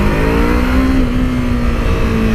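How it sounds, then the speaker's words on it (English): A 2016 Yamaha R3 twin-cylinder motorcycle on its standard exhaust holds a steady, loud engine note with a sustained droning tone, revving close to the microphone with no voices. "this bike's just got the standard exhaust on it, and hopefully the microphone's picking it up"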